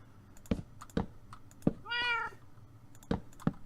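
A cat meows once in Minecraft, a single rising-then-falling cry under a run of sharp keyboard clicks spaced through the moment.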